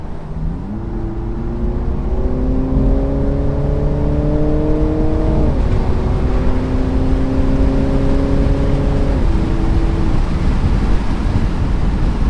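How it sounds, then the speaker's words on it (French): A 2023 BMW Z4 G29 accelerates hard in sequential mode, the engine note climbing steadily through one gear, dropping sharply at a quick upshift, then rising again, loud and close with heavy wind rumble underneath. "Et ici je vais peut-être vous montrer l'accélération."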